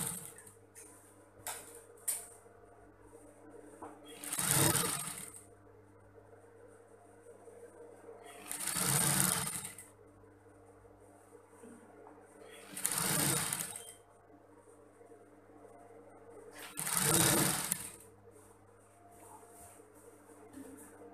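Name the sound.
overlock sewing machine stitching fabric for a mermaid dress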